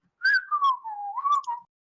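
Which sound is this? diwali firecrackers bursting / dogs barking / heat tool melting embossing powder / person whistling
person whistling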